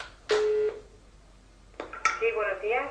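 A telephone call being dialed: a sustained tone, then a quick series of short beeps and ringing tones, moderately loud with clear pauses between them.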